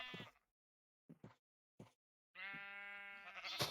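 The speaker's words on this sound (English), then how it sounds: "Come on, sheep." Sheep bleat in the Minecraft video game, some short clipped calls separated by silence and then a long, wavering bleat at close range.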